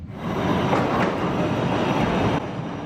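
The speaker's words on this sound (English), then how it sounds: "Trains arriving, doors opening, announcements echoing, crowds moving in every direction." A train rumbles loudly through an echoing underground station, steady rattling and roar, then the noise drops slightly near the end.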